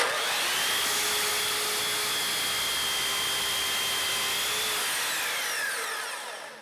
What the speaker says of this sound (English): You noticed how I pushed the saw through?